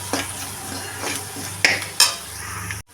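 Spices and a mixture stirred in a frying pan for fish fingers: soft sizzling under scraping strokes, with two sharper metallic clinks of utensil on pan before an abrupt cut to silence; nobody speaks.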